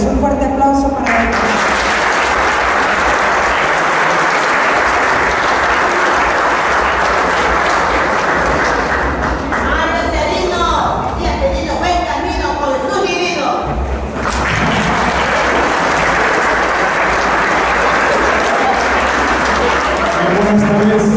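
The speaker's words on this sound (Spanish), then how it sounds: "Un fuerte aplauso para él." An audience claps loudly at a book presentation in Jalpa de Méndez, greeting the book's coordinator. The dense applause fills the room for about twenty seconds, with a voice briefly speaking over it near the middle.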